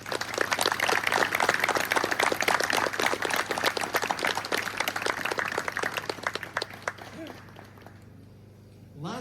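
Dense, steady applause from a crowd at the Carranza memorial ceremony, loud and continuous for about eight seconds before thinning out and fading to near silence at the end.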